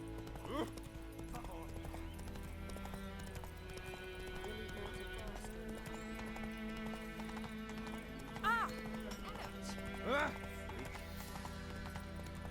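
Steady clip-clop of the horse Roach's hooves while riding in The Witcher 3, a continuous even rhythm under game music with brief neighing or snorting accents.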